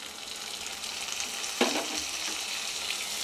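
Onions and tomato sauté in a pan, a continuous close sizzle with a sharp scrape of stirring partway through, moderately loud and free of speech.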